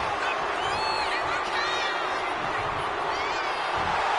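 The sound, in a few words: crowd cheering in WWE 2K25 video game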